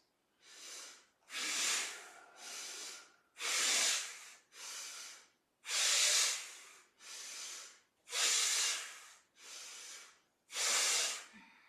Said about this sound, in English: Empty the breath here. 5 bellows breaths.